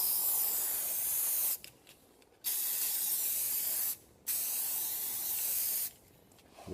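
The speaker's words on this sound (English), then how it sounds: "I'm actually going to spray paint the pedals" Aerosol spray paint on drum bass pedals: three long hissing bursts, close and loud, with short quiet gaps between them.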